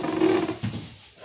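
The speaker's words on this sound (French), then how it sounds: "je suis désolée pour le bruit du fauteuil" A drawn-out creaking squeal of an armchair, fairly close, followed by a short soft knock as it settles.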